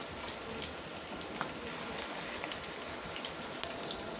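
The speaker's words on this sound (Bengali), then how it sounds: "মোটামুটি এক পাশটা ভাজা হলে আরেক পাশটা করে দিতে হবে।" Piyaju fritters frying in oil give a faint, steady crackling hiss dotted with small pops, heard alone with no voices.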